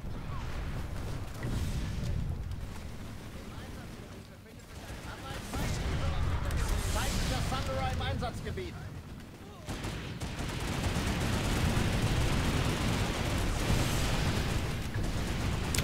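Gunfire and explosions rattle through a Planetside 2 battle, with dense bursts of shots and blasts continuing throughout, while someone talks over the action.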